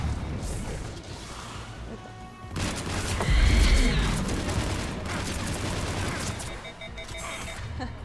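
Gunfire crackles in a Mass Effect 3 Legendary Edition battle, bursts of shots and booming impacts layered over game sound effects, dense and loud with a heavy blast midway.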